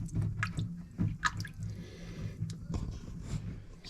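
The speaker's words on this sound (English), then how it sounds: "And the sink is filling up." Water runs and splashes into a plugged sink during a plumbing pressure test, with irregular drips, squishy gurgles and splatters close by over a low background hum.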